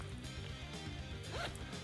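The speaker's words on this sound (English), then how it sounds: "This is the interior waterproof zipper" A zipper runs along the interior waterproof pocket of a 2014 Alpinestars T-GP Pro motorcycle jacket, giving one quick, rasping pull that is close and moderately loud over a steady low background hum.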